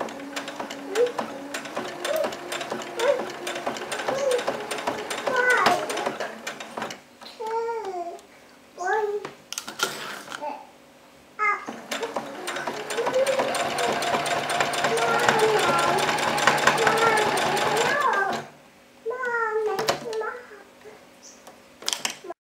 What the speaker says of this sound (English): I'm just going to do a straight stitch for that, just to tack it down